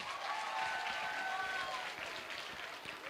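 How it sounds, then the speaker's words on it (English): Audience at a school Safer Internet Day event applauds, a steady wash of many hands clapping at moderate loudness throughout the short stretch. "So give them a round of applause."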